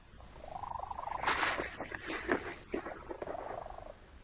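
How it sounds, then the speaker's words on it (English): A cat purrs softly and close, a rhythmic rumbling purr rising into a high-pitched, wail-like tone, continuous over several seconds. "Cats have perfected a purr that we find impossible to ignore."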